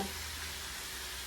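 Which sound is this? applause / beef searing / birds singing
beef searing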